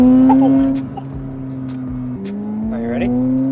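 A Nissan S15 accelerates on a bumpy surface with little traction, engine note climbing and dropping through quick shifts while tires chirp and squeal briefly, close and fairly loud.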